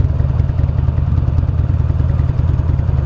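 A 2009 Buell Lightning Long XB12SS motorcycle idles close by with a loud, steady, lumpy low rumble and a faint clatter, alone without talk.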